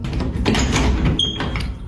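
Someone tries a locked door behind the stairs in a scary video, producing a few muffled rattling thuds and a brief creak against background noise.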